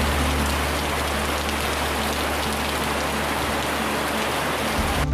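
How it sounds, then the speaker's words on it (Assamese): Steady rain shower falling outdoors, a dense continuous hiss of drops on surfaces with a low rumble beneath, even and unbroken from start to finish with no voices. "এজাক বৰষুণ।"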